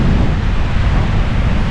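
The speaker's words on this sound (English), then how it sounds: "It is very windy." Strong wind batters the microphone at Goadstone Pond on Yennadon Down in December, a continuous loud, low roar, with no other sound getting through.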